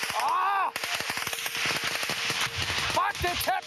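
Rapid machine gun fire crackles in close bursts during combat in Afghanistan, mixed with shouting voices and other sharp shots.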